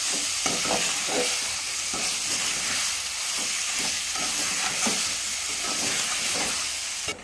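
Mutton curry bubbling and sizzling steadily under a lid on a medium flame, a continuous close hiss with faint intermittent ticks and pops, no voices.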